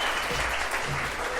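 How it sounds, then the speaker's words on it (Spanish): Applause from an audience at a religious sermon, a brief, even wash of clapping heard at moderate volume. "Denles un aplauso, por favor."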